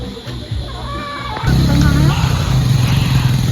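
A motorcycle passes close by on a rural road near a campsite, its engine rising to a loud steady drone, with people talking over it.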